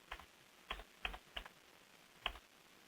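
Typing on a computer keyboard: five or six quiet, separate key clicks in an irregular rhythm, close by and alone in a hushed room.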